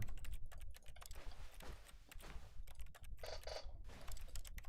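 Rapid irregular clicking of keys and mouse while playing The Stanley Parable, dense clusters of sharp, close taps with brief pauses, over a low background hum.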